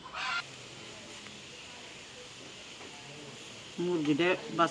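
A hen laying an egg gives loud, harsh squawking clucks at the start and again near the end, separated by a quieter stretch of faint background noise.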